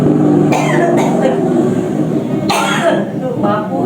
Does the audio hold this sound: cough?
yes